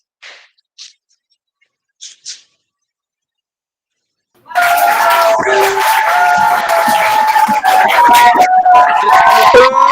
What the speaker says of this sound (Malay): Beri tepukan yang gemuruh.